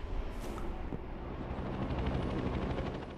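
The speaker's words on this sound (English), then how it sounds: "helicopter. Those are pretty dangerous." A helicopter in the video game inFamous Second Son gives off a steady rotor thrum with rapid pulsing blade chop, moderately loud and continuous for a few seconds.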